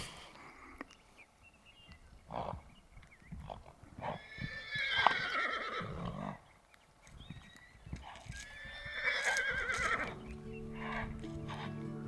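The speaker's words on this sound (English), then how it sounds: "two stallions squaring off in front of me" Wild stallions of Utah's Onaqui herd neigh and whinny in several loud, squealing calls while squaring off, with hoof scuffs and rustling between calls and faint wind in the open.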